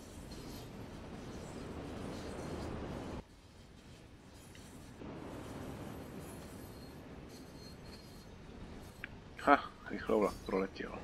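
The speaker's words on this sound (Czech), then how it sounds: "Vlak proletěl." Train rushing past in the Train Sim World: Great Western Express game, a broad rumbling roar that cuts off abruptly, then a quieter rolling rumble, followed by someone speaking near the end.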